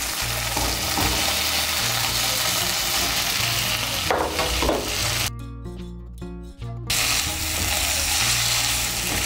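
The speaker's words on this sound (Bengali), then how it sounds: "আলুগুলোকে মশলার সঙ্গে ভালো করে মিশিয়ে নেব। মিশিয়ে নিয়ে আলুগুলোকে আর একটু মশলার সঙ্গে কষিয়ে নেব।" Fried potatoes are being sautéed with spice masala in a pan for chhanar dalna, giving a steady close sizzle with stirring and scraping and a brief drop in the middle, with no talking.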